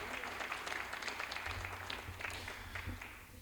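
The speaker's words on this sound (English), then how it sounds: "if we can just one round of applause for all of our talented artists and musicians tonight" An audience at a school district event claps for student artists and musicians, a brief, fairly quiet spatter of applause with some uneven individual claps and faint room noise.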